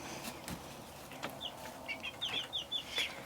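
Young chicks in an indoor pen built from an old kitchen counter give a short run of faint, high peeping and cheeping near the end, over quiet background with a few soft knocks.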